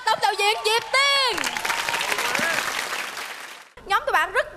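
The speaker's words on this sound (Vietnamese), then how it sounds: "Một tràng pháo tay dành cho tổng đạo diễn Diệp Tiên." A Vietnamese comedy competition show's studio audience gives a loud round of applause for the general director, starting under a speaking voice and fading out before talk resumes.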